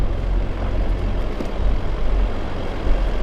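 Modified Isuzu MU-X 4WD in low range first gear crawling up a steep forest track, tyres aired down and rear locker engaged; a steady deep engine drone with rumbling, close and without speech.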